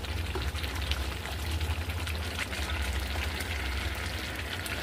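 Meat goes into a hot pan and fries for biryani, a steady, close sizzle and crackle that holds without a break.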